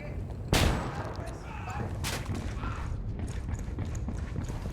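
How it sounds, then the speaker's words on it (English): A flashbang grenade going off in Ghost Recon Wildlands, one loud sharp bang near the start followed by a second fainter burst, over ongoing game ambience. "Lobbing a flashbang"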